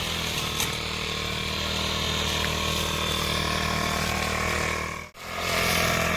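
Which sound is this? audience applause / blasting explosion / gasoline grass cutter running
gasoline grass cutter running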